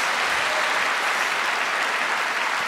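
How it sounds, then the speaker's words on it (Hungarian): Concert audience applauding an orchestra at the close of a full evening show, a dense, steady wash of clapping that holds at even loudness for the whole stretch with no voices on top. "Egy nagy tapsot a zenekarnak még egyszer."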